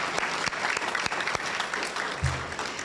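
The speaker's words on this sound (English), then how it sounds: "We can give them a round of applause" An audience at an education event in Louisville gives a steady round of applause, dense overlapping clapping heard up close and alone.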